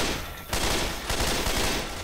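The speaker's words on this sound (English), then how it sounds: "Stop shooting the peanut people." Dense, continuous automatic gunfire from the video game Left 4 Dead 2 fills the whole stretch, with loud overlapping rapid shots, a brief lull at the start, then sustained fire.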